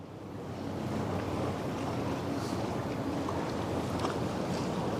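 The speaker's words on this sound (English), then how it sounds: "I love a good ship engine rumble." The MSC Virtuosa cruise ship departs Rotterdam with a deep continuous engine rumble, heard outdoors under steady wind and water noise, even and unbroken throughout.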